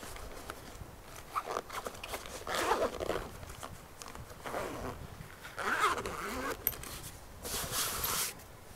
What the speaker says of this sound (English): The zippers close easy,